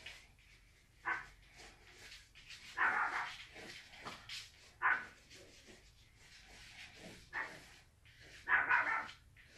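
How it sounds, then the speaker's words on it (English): A dog outside barks in repeated bursts, some sharp and some whining or yipping, spaced irregularly across the whole span and heard at moderate distance with no talking. "There's my dog right there. Going bananas outside."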